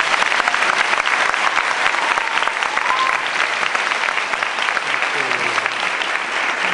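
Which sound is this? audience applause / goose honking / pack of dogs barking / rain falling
audience applause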